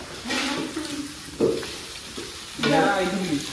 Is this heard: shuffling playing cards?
no